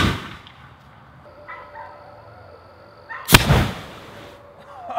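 A homemade potato gun fires once, a sharp loud boom with a brief whooshing blast in the middle of the clip, following quiet outdoor background and a faint earlier pop.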